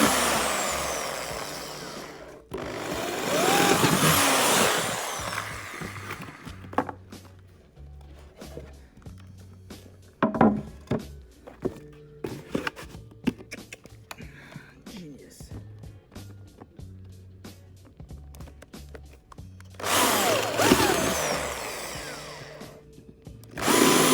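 A power drill bores holes into stairs during a mounting job, loud broadband whining bursts at the start and near the end, with quieter clicks, knocks and brief drill spins in between.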